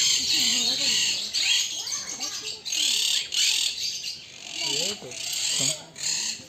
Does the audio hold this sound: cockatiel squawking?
yes